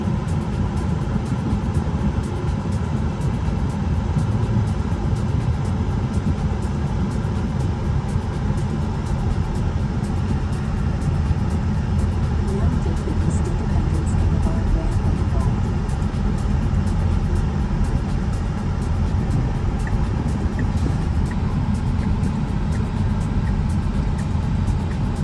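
A Tesla driving on Autopilot through traffic, its steady low road and engine rumble continuous and close, with broadband tyre and traffic noise running throughout and no talk.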